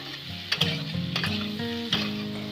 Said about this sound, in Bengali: আলু আর পটল হালকা করে মা ভেজে নেবে